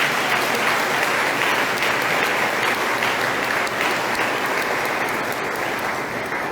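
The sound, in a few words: warm round of applause in church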